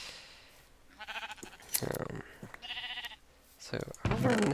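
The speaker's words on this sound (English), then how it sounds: "we're gonna shear some sheep real quick" Minecraft sheep bleat several times in short, nasal bursts while being sheared, interleaved with snipping clicks and someone talking over them.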